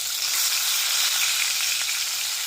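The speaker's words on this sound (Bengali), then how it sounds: "দিয়ে মাছগুলো ফ্রাই করে নেবো। দেখুন তেলটা গরম হয়ে গেছে।" Tilapia fish pieces fry in hot oil in a kadai, giving a dense, steady, loud sizzle that holds without a break and without any voices.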